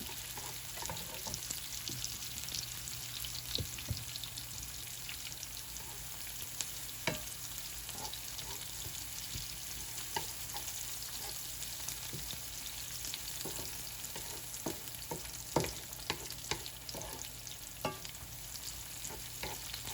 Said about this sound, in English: I'll give it a little stir. Let that just cook up just a little bit.